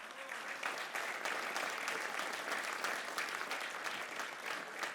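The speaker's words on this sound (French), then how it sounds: "Merci d'applaudir Francis Sénégas." An audience at an awards ceremony applauds Francis Sénégas for an honorary sportsmanship and sporting career award, steady, moderately distant clapping from a full hall with no break.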